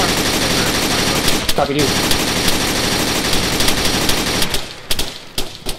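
Sustained automatic gunfire in the military shooter game Arma 3, loud and close, with continuous bursts in foggy combat. Brief radio-style talk cuts in, and the firing breaks into separate shots near the end.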